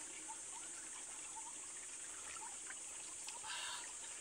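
Clear mountain stream water trickling and flowing steadily on the Sathuragiri hill trail, a constant close wash with a brief brighter splash near the end and no talking.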